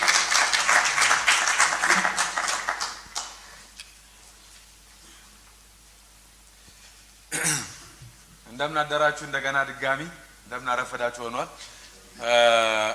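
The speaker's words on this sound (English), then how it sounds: "Give him a round of applause once again." Conference audience applauding, a dense burst of clapping at the start that fades out after a few seconds, followed by quiet and then someone speaking.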